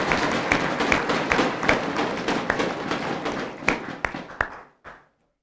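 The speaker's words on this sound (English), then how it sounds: "Let's do one final round of applause." A round of audience applause at the grand finale of a university start-up competition, with sharp individual claps over a steady wash that gradually fades and ends in a few scattered claps.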